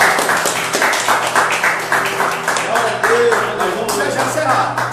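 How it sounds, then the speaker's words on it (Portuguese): A church congregation claps together in a steady, rhythmic beat, filling the room with close, continuous applause while voices carry over it. "Quem pode aplaudir o Senhor Jesus?"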